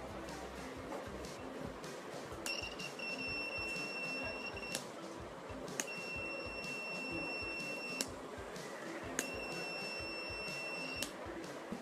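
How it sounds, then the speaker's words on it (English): A prototype blind stick's buzzer sounds three times, each a shrill electronic tone lasting a couple of seconds, over a constant background hiss. "This is a switch which on pressing sounds a buzzer where the blind"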